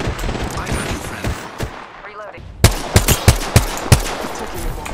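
Enemy gunfire rings out in Apex Legends, close and loud, a burst of rapid sharp shots ending the stretch after a quieter start with game noise and a player talking.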